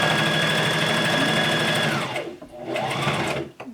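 A sewing machine hums loudly and close in a continuous run while stitching a cloth face mask that has a twist tie tucked inside. It stops briefly, then starts a second short run.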